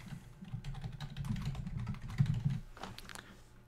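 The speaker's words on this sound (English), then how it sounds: "And then you just add a commit message." Quick, steady typing on a computer keyboard, entering a Git commit message: close, continuous key clatter for a few seconds that slows and trails off near the end, with no speech.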